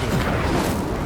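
An Incendio fire spell cast in Hogwarts Legacy gives a short, dense whoosh of flame with a low boom, loud and continuous through its brief span.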